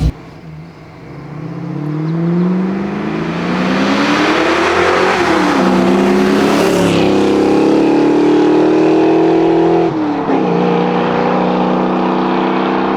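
A hot rod engine revs at partial throttle, climbing steadily in pitch over several seconds to a loud, sustained roar, then briefly drops and settles back into a strong steady drone.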